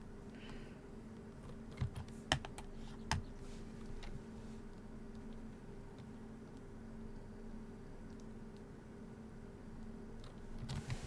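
Computer keyboard typing in a quiet room during a home stream, soft scattered key clicks with a few sharper taps over a steady low background hum.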